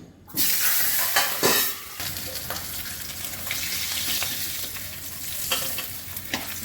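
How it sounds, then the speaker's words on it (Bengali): Hilsa fish heads frying in mustard oil, a loud crackling sizzle that starts suddenly and continues steadily, with occasional sharper spits and utensil scrapes. "মাছের মাথাগুলো ভেজে নিচ্ছি।"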